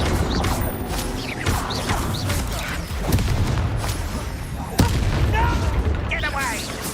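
Fire spell cast in Hogwarts Legacy during a busy duel: dense booming and crashing spell effects, with a sharp burst near the middle, all under a constant bed of combat noise and spoken dialogue.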